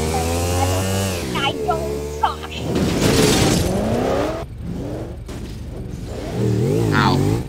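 A car in the Garry's Mod game revs and crashes with a sharp impact, while people talk over the engine noise and effects throughout.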